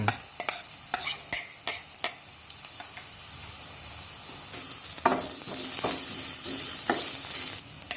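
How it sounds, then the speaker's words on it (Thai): Sliced lemongrass and galangal are stir-fried in a pan for a tom yum base, with repeated clattering strokes of the spatula over a sizzle that grows louder and steadier midway, close by with no speech. "ใส่ตะไคร้ซอยนะครับ กับข่า ลงไป ผัดให้หอมนะครับ"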